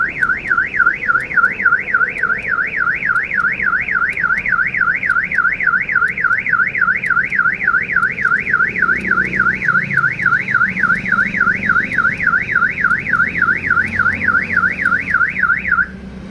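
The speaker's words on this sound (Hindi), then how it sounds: "तकरीबन 1 मिनट के अंदर ये भी पानी बंद हो जाएगी, जो सायरन की आवाज़ आ रही है।" A car alarm siren warbles in a fast, even, repeating up-and-down wail, loud and close, while an aftermarket central locking remote is being programmed; it runs unbroken for about sixteen seconds, then cuts off.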